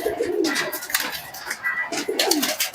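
Released pigeons coo close by in soft, throaty bursts, with two or three rolling calls overlapping against a quiet background.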